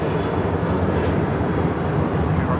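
Jet airliner departing runway 25 right at LAX, a steady broad engine roar filling the whole clip at close-to-moderate distance, with no voices over it.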